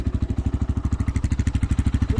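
Motorhead Scrambler 250 motorcycle idling on its original stock exhaust, a close, loud, steady pulsing thump of rapid regular beats with a slightly uneven, misfiring character.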